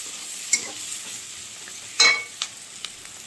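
An egg cutlet mixture fries in a pan with a soft, steady sizzle, punctuated by a few brief scraping clicks of stirring, close by and fairly quiet.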